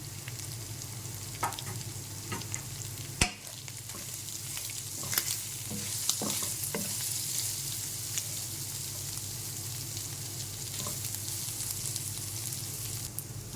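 Ginger garlic paste with chili powder frying in a pan, a steady sizzle with scraping stirs and occasional spoon clinks against the pan.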